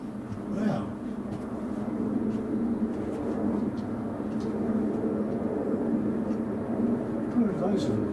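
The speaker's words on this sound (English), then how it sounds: "there's another load of helicopters there" A steady, low mechanical drone of a group of four helicopters passing overhead at a distance, continuous throughout with a faint rhythmic beat.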